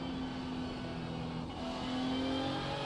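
Audi DTM race car engine in the iRacing sim, a steady, droning engine note held at high revs that swells slightly toward the end, sounding continuous and fairly loud with no speech over it.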